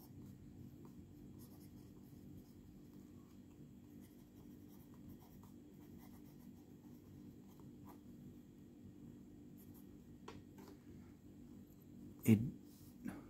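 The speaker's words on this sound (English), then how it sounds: "This is really wet nib with Sheaffer, which is kind of a dry ink, but this is much smoother than this one actually." A wet fountain pen nib loaded with Sheaffer ink scratches softly and steadily across paper, faint and close, with a brief louder scrape near the end.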